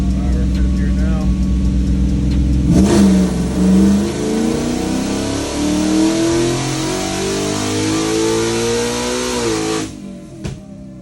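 A supercharged Whipple 3.0 Coyote-swapped Ford F100 on a dyno, held in fifth gear: the engine starts low, then revs hard in a loud, rising pull with climbing pitch before an upshift and an abrupt drop near the end.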